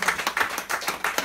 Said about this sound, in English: Can you clap your hands together and thank him?